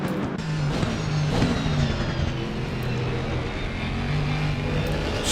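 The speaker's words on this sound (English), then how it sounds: "I love the sound of the Aston, and I always have a bit of Aston time" An Aston Martin race car engine in Assetto Corsa Competizione at Zolder roars steadily and loudly, a dense continuous drone with slight shifts in pitch and no talk over it.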